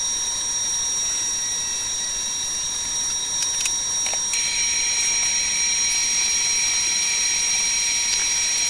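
A table saw cutting wood for farmhouse kitchen table benches, heard as a loud, steady high-pitched motor whine with layered tones over a constant broadband roar, running without pause and with no talking.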